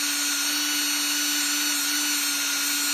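A small electric motor runs on 18 volts at about 17,000 RPM, giving a steady, loud, high-pitched whine with a strong constant tone that stays unchanged for the whole stretch, with no talk over it.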